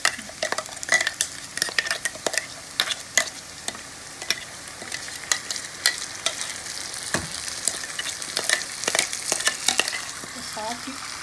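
Garlic and red chili fry in a pan for a garlic sweet chili sauce, giving a steady sizzle broken by repeated scraping clicks as a utensil stirs through them.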